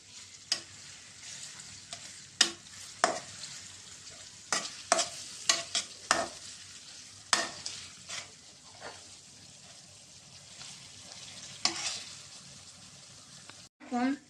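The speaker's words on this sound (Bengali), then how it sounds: "এখন পেঁয়াজগুলো হালকা বাদামি করে নেব।" Chopped onions fry in hot oil for a chicken curry, a steady sizzle broken by frequent sharp scrapes and clinks of a spoon stirring against the pan, close and fairly quiet.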